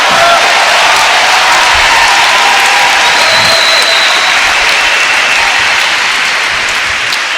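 Loud, sustained applause from a large church congregation, steady clapping filling the whole clip without a break.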